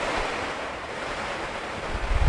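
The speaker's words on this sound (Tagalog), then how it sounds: "ang lakas-lakas ng ulan, ang lakas-lakas ng hangin" Roaring, gusting typhoon wind with a dense wash of heavy rain, constant and loud, swelling near the end, during Typhoon Ulysses in Bulacan.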